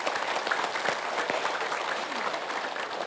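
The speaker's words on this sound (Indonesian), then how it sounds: "Tepuk tangan." Studio audience applauding at an Indonesian religious talk show as an ustadz is welcomed, a dense, steady wash of many hands clapping at full volume for about three seconds, with no voices breaking through.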